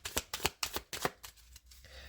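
Tarot cards are shuffled and cut in a quick, close run of crisp riffling bursts, about eight rhythmic flutters that taper off near the end, with no speech.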